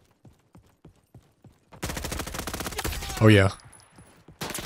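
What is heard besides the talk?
gunfire from video game Call of Duty-style Roblox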